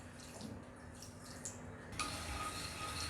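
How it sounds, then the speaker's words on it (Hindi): A small splash of water, a quarter cup, pours into a pan holding sugar for syrup, a soft trickle that becomes a brighter, steady pour toward the end. "उसमें हम 1/4 कप पानी डाल देंगे।"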